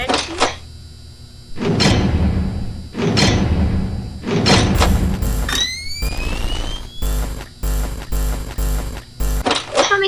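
A door slams shut in the Five Nights at Freddy's game, giving several loud, heavy thuds and bangs in a row with rising electronic tones and clicking noises between them, and no voice over it.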